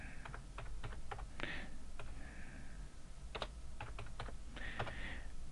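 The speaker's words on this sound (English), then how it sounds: "So if I start typing in data here" Computer keyboard typing as data is entered into a spreadsheet template, with bursts of sharp key clicks in an irregular rhythm, close and fairly quiet over a steady low hum.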